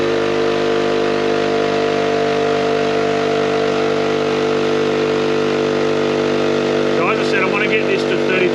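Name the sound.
KickAss 12V portable air compressor running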